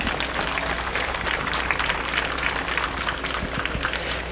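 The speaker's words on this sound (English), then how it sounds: "please give a round of applause for everyone that purchased one of our track signs this year" Audience applause at an outdoor Relay for Life community event in California, Pennsylvania: steady, dense clapping from a crowd that continues evenly at moderate volume without voices.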